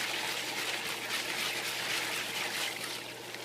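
Liquid trace nutrients poured into organic compost tea, a steady trickling splash running continuously for a few seconds, close and fairly soft.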